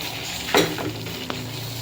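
Bilimbi pickle stirred in hot, bubbling oil gives a constant sizzle, one sharp scraping stroke early on and a small clink of the spoon against the pan a moment later, with no voices.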